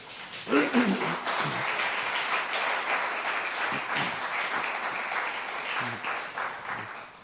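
A church congregation bursts into sustained applause praising God, a dense wash of many hands clapping steadily for several seconds, with a few brief voices rising faintly underneath.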